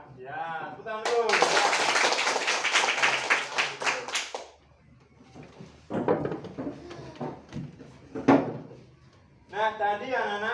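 Schoolchildren clap their hands together, a dense burst of claps lasting a few seconds, then scattered slaps and taps with a voice talking between them.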